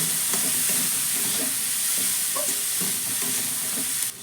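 Food sizzles in a pan under a steady hiss, with rhythmic scraping and soft knocks of a spatula stirring it, close by, ending with an abrupt drop.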